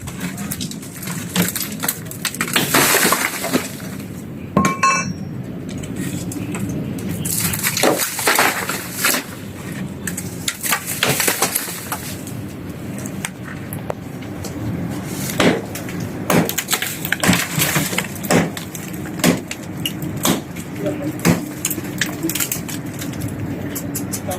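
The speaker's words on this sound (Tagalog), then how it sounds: "Ganito pumukpok na maso ngayon." A sledgehammer breaks open a concrete tomb niche, with repeated heavy cracking and crunching impacts and falling debris in an irregular rhythm over a long stretch, moderately loud and close.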